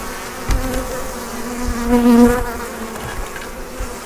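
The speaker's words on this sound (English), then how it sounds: "You will have some bees flying." Honeybees buzz steadily close by around a hive being installed with a package of bees, a droning hum that swells and fades as insects fly past, with no voices.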